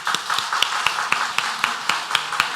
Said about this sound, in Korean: 큰 박수 올려드릴까요?